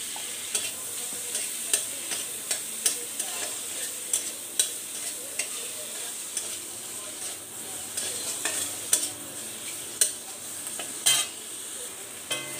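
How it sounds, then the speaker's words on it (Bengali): Shrimp frying in a pan with salt and turmeric: a continuous bright sizzle punctuated by sharp, irregular clinks of a utensil stirring against the pan, close up and with no talking. "একটু লবণ দেব একটু হলুদ দেব দিয়ে চিংড়ি মাছটাকে সুন্দর করে একটু ভেজে নেব"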